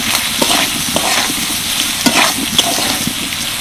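Papaya mixed with salt, turmeric, chilli powder and garam masala is stirred in a hot frying pan, giving a loud, close sizzle broken by repeated spatula scrapes and small clicks.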